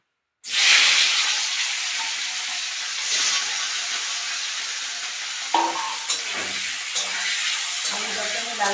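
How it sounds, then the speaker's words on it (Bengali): Boiled potatoes coated in turmeric hit hot oil in a pan with a sudden loud sizzle that settles into a steady, close hiss, with a few scraping stirs later on. "আলুটাকে আমি লাল করে ভেজে নেব"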